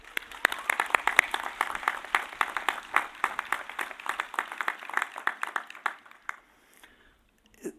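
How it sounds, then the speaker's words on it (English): Crowd applause at a 2015 Albion College commencement ceremony honoring graduates and a trustee, dense clapping for about six seconds before tapering off to near silence, with a few late claps. "Let's give them a round of applause"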